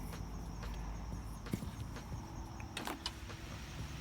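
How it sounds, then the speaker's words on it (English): An old lawnmower engine runs with its crusty muffler removed, producing a steady, raw broadband rumble with sharp irregular pops and rattles throughout, heard moderately near and alone. "that's what it sounds like with this old crusty muffler off there"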